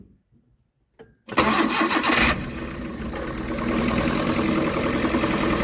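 A Maruti Suzuki Eeco with a throttle body fault that lets it start but not rev: after near silence and a faint click, the engine cranks and catches, then settles into a loud, steady idle with a slight rise in level.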